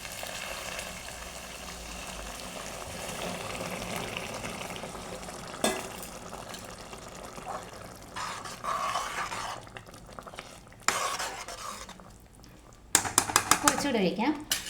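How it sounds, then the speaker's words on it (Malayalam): Boiled water poured into sizzling masala in a pan for Palakkad-style chicken curry, a continuous hiss and bubbling with scattered utensil clinks and a louder splashing burst near the end. "ഇത് തിളപ്പിച്ച വെള്ളമാണ് ഒഴിക്കുന്നത്."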